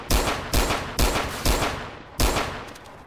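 Five sharp gunshots in the video game Trouble in Terrorist Town crack in an uneven rhythm, each followed by a short fading tail.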